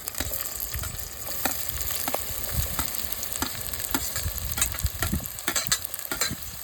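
Sliced onions frying in plenty of sesame oil for a dried fish sambal, a steady close sizzle with scattered crackles and occasional stirring scrapes, no voices.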